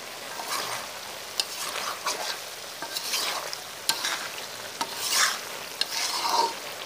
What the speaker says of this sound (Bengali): আমরা আবার নাড়া দিয়ে দিচ্ছি যেন মিশে না যায়।